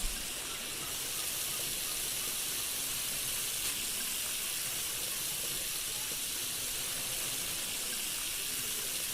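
Water pours in a steady, even hissing stream that runs continuously and fairly close, with no talk over it.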